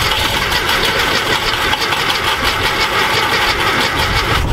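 Starter motor cranking the engine of a VW Thing Type 181 that sat unused for 32 years, a loud, fast, rhythmic churning whir running continuously without the engine catching.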